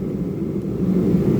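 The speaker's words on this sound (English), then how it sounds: "excuse the background noise, I have the shop heater on" A shop heater runs in a workshop, giving a loud, continuous low rumble that stays steady throughout, with no voices.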